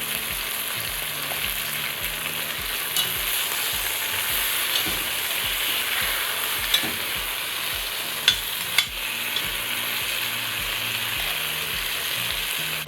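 Steady, loud sizzling and crackling of oxtail frying in a pan, continuous throughout with occasional pops.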